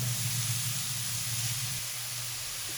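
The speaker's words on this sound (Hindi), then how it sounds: "गाजर को 2-3 मिनट फ्राई करेंगे घी के साथ, इलायची और घी के साथ।" Grated carrots fry in ghee with cardamom, giving a steady, close sizzle and hiss that holds evenly for the whole stretch, with no talking over it.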